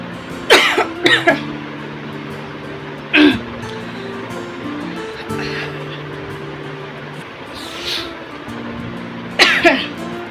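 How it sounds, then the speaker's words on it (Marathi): Several close coughs, some in quick pairs, break out over about ten seconds, with a person's voice in between. "बोलायला गेलं की तो खोकला चालू होतो"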